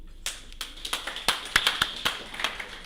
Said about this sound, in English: I don't know whether we could be having clapping